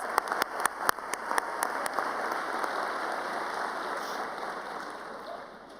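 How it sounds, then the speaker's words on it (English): Audience at a North Shore Community College commencement ceremony applauds, a few sharp early claps giving way to a steady, fairly distant wash of clapping that fades slightly toward the end. "Please, let's give them all a round of applause."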